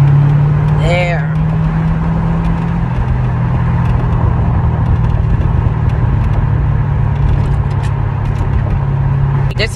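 A supercharged 6.2 liter LS3 V8 in a custom 2009 Chevrolet Corvette C6 drones with a steady, loud, low rumble for the whole stretch, heard with the window rolled down, with a short chirp near the start.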